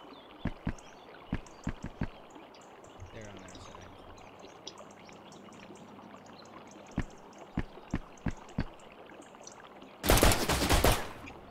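Sniper rifle shots in a video game, a series of sharp, isolated cracks spaced irregularly through the clip over low background ambience, followed by a louder burst of dense noise near the end.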